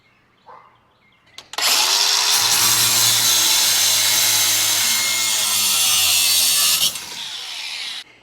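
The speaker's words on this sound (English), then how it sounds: "now I'm going to grab the angle grinder, cut these little stabby, McGrabby, sharp, cutty parts off" An angle grinder cuts sharp metal parts off a homestead hay feeder, spinning up with a sudden loud hissing roar that holds steady for about five seconds before easing off slightly, close and alone.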